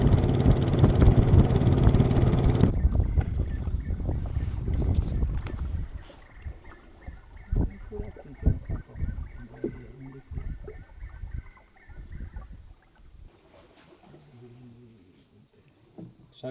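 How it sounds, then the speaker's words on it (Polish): A motorboat travels along an Amazon river in the evening, its engine droning steadily at mid distance with wind and water noise, loud at first and then a lower, continuous hum. "Te wieczorne przemieszczanie się łódką."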